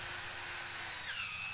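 A power drill bores a hole through a piece of wood in a short, faint burst of steady whirring and grinding with no voices.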